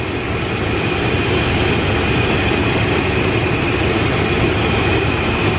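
A 1996 Chevy Tahoe 5.7-liter V8 engine idling close by during a cooling system flush, a steady, loud, low rumbling drone with a faint high whine running through it, unchanging throughout.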